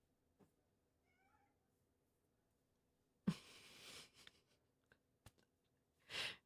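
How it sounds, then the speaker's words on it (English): A pet cat named Machka meows softly a few times in a quiet room at home, with a brief rustle and a clearer, louder meow near the end. "What are you meowing at?"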